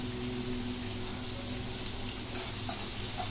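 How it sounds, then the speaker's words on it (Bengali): Onion and garlic frying in a pan, giving a steady, close hiss and sizzle of hot oil that holds evenly throughout, with an occasional faint stir or tap. "আমাদের পেঁয়াজ আর রসুন একদম ভালো করে ব্রাউন কালার করে ফুপু ভেজে নিয়েছে"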